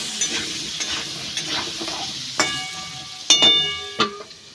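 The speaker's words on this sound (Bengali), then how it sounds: "আলু, লবণ, হলুদ গুঁড়ো ঢাকা দিয়ে ভালো করে ভেজে নেব।" Potatoes frying in oil with salt and turmeric, a close sizzling hiss with scattered crackles and a few sharp clinks of a utensil against the pan, no voices.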